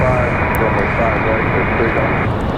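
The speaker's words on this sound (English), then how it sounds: "our little United there that just took off, that's Republic Airways 3616" A Republic Airways jet flying as United climbs away after takeoff from Raleigh-Durham International, its broad engine roar steady and loud throughout, with a voice speaking faintly beneath it.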